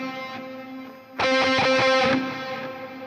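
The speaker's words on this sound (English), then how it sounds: "it's like a cave reverb, I believe is what it was labeled, as well as a delay I've got on there." Electric guitar played through a Quad Cortex preset with cave reverb and delay: a soft sustained tone, then a louder strummed chord section with long echoing tails, alone with no talk.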